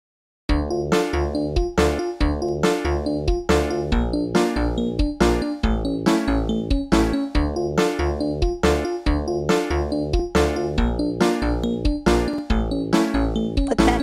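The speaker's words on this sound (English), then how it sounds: "Just kicks and snares." Programmed kick and snare drum pattern built in FL Studio for a Friday Night Funkin' style song, a steady loud beat of regular hits repeating without pause over about fourteen seconds, with tonal ringing layered on top.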